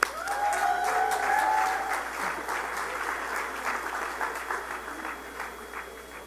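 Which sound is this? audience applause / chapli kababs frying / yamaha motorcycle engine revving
audience applause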